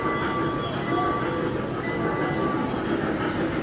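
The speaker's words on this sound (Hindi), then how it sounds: "इस तरफ जी ये ट्रेन जा रही है" Small ride-on train running through a busy shopping centre, a steady rumbling roll with a faint tonal hum, heard under a continuous wash of crowd noise and distant voices.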